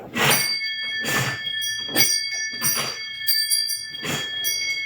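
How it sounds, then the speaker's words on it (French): A bell rings repeatedly, bright sustained tones with a steady series of strikes about once a second, close and fairly loud. "la cloche a sonné."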